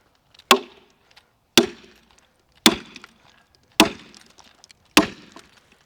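A 22-inch white oak log being rived for axe handles, heard as five sharp, evenly spaced woody strikes with crisp cracking and splintering that decays quickly after each blow. The sound is close and loud, with quiet pauses between strikes.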